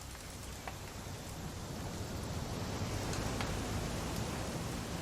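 Steady rain falling in the video game What Remains of Edith Finch, a dense continuous hiss of drops on surfaces with faint low rumbling underneath, even and unbroken throughout.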